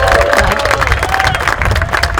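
A crowd at a college student-government ceremony claps and cheers in a short, busy burst, with scattered voices and whoops mixed into the applause.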